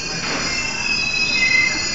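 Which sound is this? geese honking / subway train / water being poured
subway train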